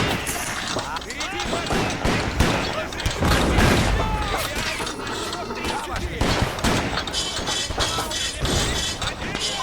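Dense gunfire rattles nonstop in a Napoleonic-era war video game, rapid volleys and sharp cracks with rounds ricocheting off walls, loud and close throughout, with someone talking over the battle.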